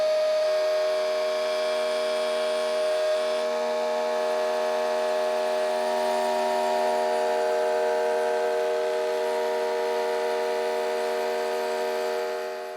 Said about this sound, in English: we've got our round over bit here, and we'll just be passing the body through